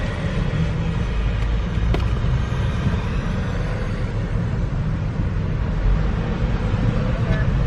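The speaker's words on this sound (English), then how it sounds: "So we're going through the toll booth here at the Mackinac Bridge." Car rolling through the Mackinac Bridge toll booth, a steady road and engine rumble with wind noise throughout, continuous and close.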